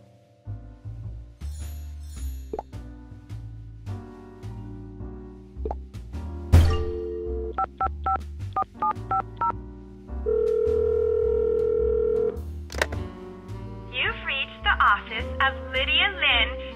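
A telephone in a Nancy Drew game: a run of short key-press beeps as a number is dialed, then a steady sustained tone, with a few further tones and quiet musical sounds around it.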